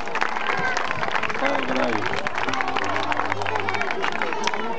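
An audience of children and adults claps for the children at a sing-along music show, a brisk, fairly loud round of applause mixed with crowd chatter and some cheering.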